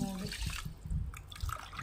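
Water poured from a cup onto rice for bagara rice, six cups into a rice cooker pot, a short splashing gush with some clinking and a faint voice in the background.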